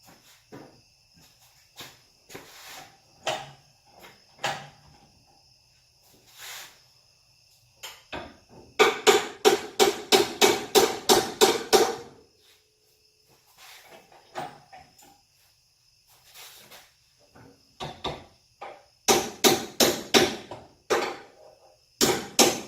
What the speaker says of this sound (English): I'm going to grab a little hammer here. Give these motor mount bolts a tap.